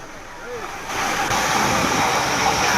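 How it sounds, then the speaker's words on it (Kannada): Flooded Kaveri river running above the danger level after heavy rain in the Talakaveri–Bhagamandala area, a loud continuous rushing roar of water that swells after the first second and holds steady, with no talk over it. "ಅಪಾಯದ ಮಟ್ಟವನ್ನ ಮೀರಿ ಹರಿತಾ ಇರುವ ಕಾವೇರಿ ನದಿ."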